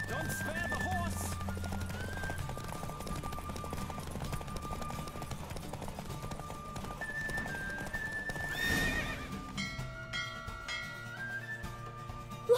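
A horse gallops in a race in The Witcher 3 video game, with rapid hoofbeats and a loud neigh, under game music and a voice speaking over it.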